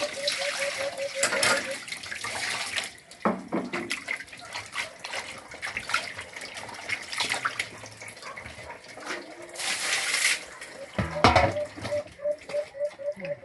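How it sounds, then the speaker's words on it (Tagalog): Sea cucumber rinsed under fresh running water from a tap, a splashy trickling stream with irregular bursts and clatters, continuing for over ten seconds while a voice speaks intermittently in the background. "banlawan ko lamang siya ng tubig tabang"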